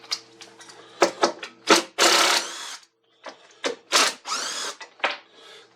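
Socket ratchet working bolts loose on a Toro push mower, bursts of rapid clicking pawl ratcheting separated by brief pauses, close up and fairly loud with no talking.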